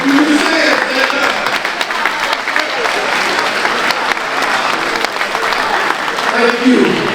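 An audience claps steadily for the parents at a motivational talk given by a former Oklahoma Sooner and New Orleans running back, dense applause that runs throughout with a few voices and cheers mixed in.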